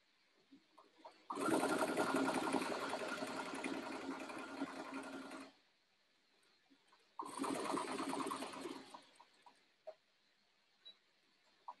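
Two steady runs of a sewing machine stitching fabric on a short stitch length, close and fairly loud, each lasting several seconds and followed by quiet handling clicks.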